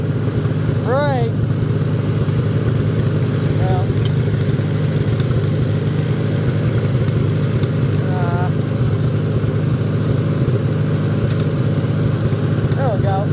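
A motorcycle engine idles steadily throughout, a constant low rumble with a rider talking over it and a few faint chirps in the background.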